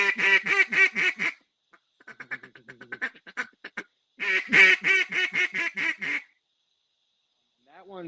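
Hand-held duck call blown by a hunter, imitating a mallard: loud close runs of rapid raspy quacks in three bursts, a descending string, then a softer chattering series, then another loud string, alone with no talking.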